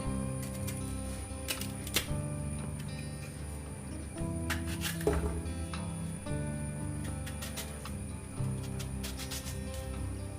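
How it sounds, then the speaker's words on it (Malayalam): Raw plantain being chopped into small pieces with a knife on a board for koottukari, a steady run of close, crisp, quick cuts and ticks, with no talking. "ഇനി നമുക്ക് കായ അരിയാം."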